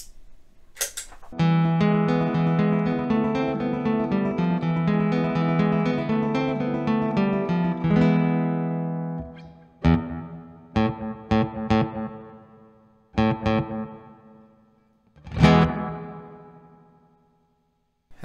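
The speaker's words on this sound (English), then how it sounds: "Delay and reverb should sound fine." A Cordoba Stage guitar rings out long notes through delay and reverb effects, then scattered plucks whose echoes trail off into a washy, reverberant decay.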